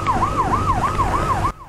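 A wailing police siren sweeps up and down in a regular cycle during a chase after a red-light-running motorcycle, loud and close over a low engine rumble, then cuts off abruptly.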